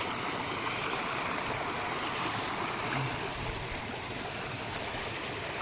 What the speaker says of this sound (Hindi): अब इस जल धारा को पार करके मुझे जाना पड़ेगा